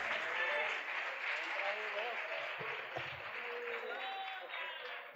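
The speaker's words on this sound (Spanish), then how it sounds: "Aplauda fuerte para Dios," A church congregation at a Wednesday service in Barquisimeto, Venezuela applauds loudly, a dense steady wash of clapping lasting several seconds with a voice faintly audible beneath it.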